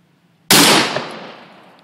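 A single loud, close Smith & Wesson 460 revolver shot fired outdoors, a sharp sudden blast followed by a long, fading rumble of echo.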